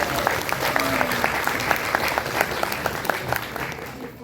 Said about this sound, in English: let's show some appreciation with a round of applause for the contestants.